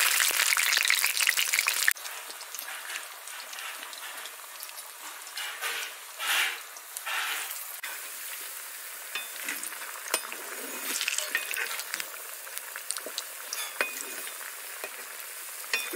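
Pakora pieces hiss and crackle as they drop into hot frying oil, a steady, fairly loud sizzle that runs throughout, with a sharper burst at the start and small clinks along the way.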